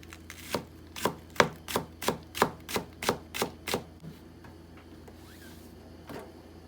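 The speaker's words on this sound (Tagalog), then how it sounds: "Ito na po yung isda. Hiwain ko lang po ito." A knife slices fish on a cutting board in about a dozen evenly spaced, crisp chops that stop near the middle, followed by quieter handling and one faint final knock.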